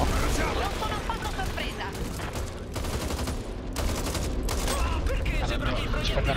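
Rapid bursts of gunfire in the co-op game Back 4 Blood crackle almost nonstop, loud and dense, with excited talk mixed in.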